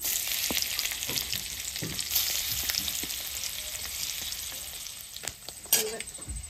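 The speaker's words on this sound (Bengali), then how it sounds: "আগে আমি গোটা মশলাটাই ভেজে নিই।" Whole spices frying in hot oil make a crisp, moderate sizzle with light stirring scrapes and a brief cough partway through.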